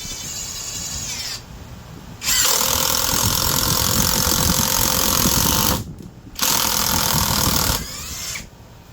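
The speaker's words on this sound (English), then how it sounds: "the impact driver works" Brushless Vevor Pro Series impact driver from a carpenter's tool set driving hot screws, a loud steady hammering rattle in three bursts separated by short pauses, with no voices.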